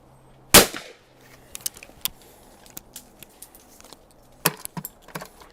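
Two sharp shots from a .410 side-by-side shotgun fired at clay targets outdoors, a loud close blast followed later by another, with faint clicks and handling noises in between.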